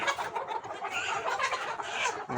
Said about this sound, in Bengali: এখানে মুরগি আছে বারোশো পঞ্চাশটার মতো